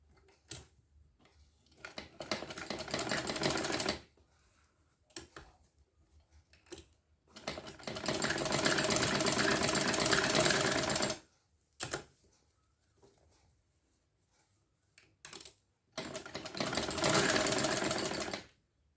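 A sewing machine stitches a shirt collar in bursts of rapid mechanical whirring, three long runs and a few short taps separated by quiet pauses.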